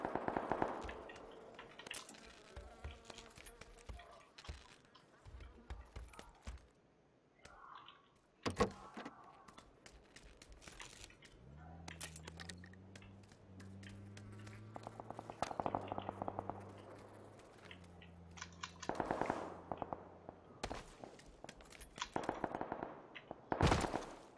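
Gunfire in the video game PUBG, with scattered single shots and short bursts that sound fairly distant, mixed with other game sounds and a low mechanical hum partway through.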